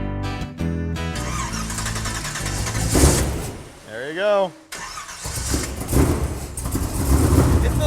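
A nitrous-equipped muscle truck with 4-inch exhaust and bullet mufflers cranks, catches and settles into a loud, rough idle, with voices talking over the engine throughout.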